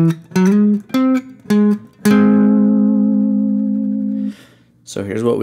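Guitar playing the next section of a song: several short plucked notes, then one long sustained note that slowly fades, ending with a brief burst of sound.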